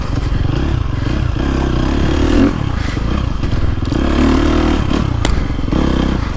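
A KTM 350 SXF dirt bike ridden on a woods loop: loud, close engine drone that surges and eases with on-off throttle, with rattles and scrapes throughout and no talk.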